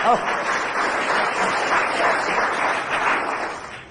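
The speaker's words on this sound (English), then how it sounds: "Oh, and applause." A radio panel show's studio audience applauds in a steady, full round that holds throughout, with a brief voice at the very start before the clapping takes over.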